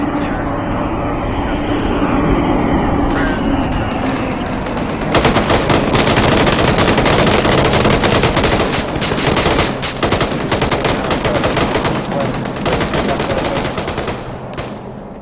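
Sustained machine-gun fire in a military video game, a loud, dense rattle of rapid shots that starts after a few seconds of rumbling background and keeps going in long bursts.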